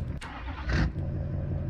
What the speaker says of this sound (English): go see if that truck will start